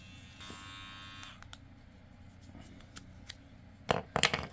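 Electric dog clippers shave a dog's fur down, a steady close buzz at the start that stops after about a second, then soft handling noises and a few sharp clicks and rustles toward the end.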